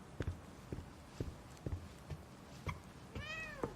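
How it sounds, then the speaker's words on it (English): A cat meows once near the end in the video game The Medium, a clear rising tonal call preceded by a series of soft, evenly spaced footsteps. "Can we pet the cat?"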